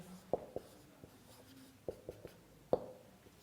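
Pen strokes of someone writing out a math solution, a few sharp taps and short scratches spread unevenly across a few seconds, close and fairly faint in a quiet room.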